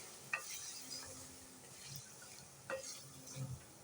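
Masala with tomatoes roasting in a pan for sarson ka saag, heard as faint, sparse spatula scrapes over a low, quiet sizzle, with nobody talking.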